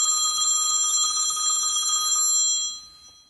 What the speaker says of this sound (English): Oh, it's my cell phone. It's here in one of my shopping bags under a sweater.